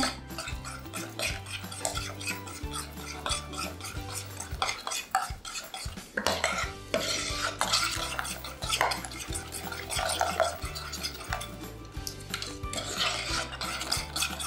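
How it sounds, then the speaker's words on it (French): A spoon stirs a cream mixture for a cake in a bowl, giving steady close scraping and clinking against the dish throughout, with rhythmic swishes and occasional louder taps. "On mélange bien."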